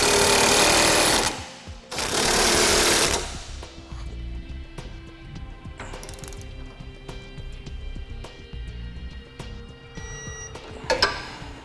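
Power tool tightening base plate bolts on a 2015 GMC Terrain, two loud bursts of whirring rattle near the start, followed by quieter clicks and shop noise.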